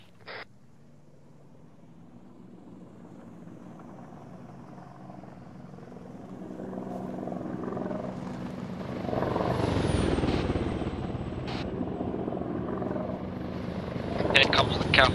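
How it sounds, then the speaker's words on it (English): An Apache attack helicopter in the video game Arma 3 swells from a faint distant drone into a loud, close rotor thrum, with chatter from players talking over it. "No, there's a heli in the sky."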